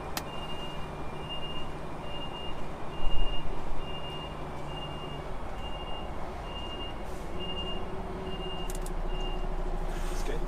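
A truck's reversing alarm beeps in a steady, evenly spaced series over a rumbling idling engine, fairly distant, with a brief louder burst of engine noise partway through.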